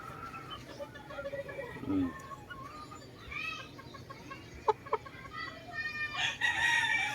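Farmyard chickens, roosters among them, clucking and crowing in a backyard coop, with short scattered clucks, a brief crow and a few sharp knocks over a quiet outdoor background.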